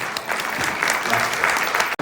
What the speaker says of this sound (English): Give Angela a big round of applause.